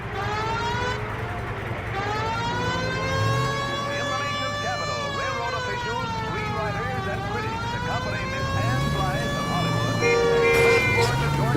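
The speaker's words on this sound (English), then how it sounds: "You just hear the siren." Siren sound effect from an old radio drama broadcast, a wavering wail that rises and falls steadily throughout under a dense music-and-voice mix, with a brief horn-like toot near the end.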